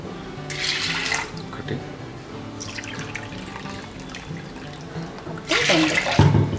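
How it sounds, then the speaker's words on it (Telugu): Two cups of water poured into a pressure cooker over washed dal, splashing in bursts at the start and again near the end, with quieter kitchen sounds between. "ఇదే కప్పుతో 2 కప్పుల వాటర్ పోస్తున్నాను"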